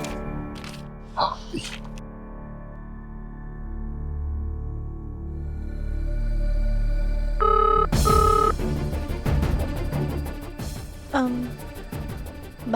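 A telephone rings a few times with no answer, with a voice and some background noise around it.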